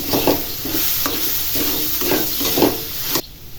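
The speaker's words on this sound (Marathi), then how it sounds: "परतले गेलाय पहा व्यवस्थित कांदा आणि हा मसाला सर्व." Onion and masala stirred and sautéed in a pan with coriander and turmeric, a steady close sizzle broken by rhythmic scraping strokes every half second or so, the frying hiss cutting out abruptly near the end.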